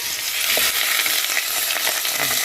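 A slice of lamb leg browning in butter in a pan, a loud, steady close sizzle throughout with faint stirring, no talk.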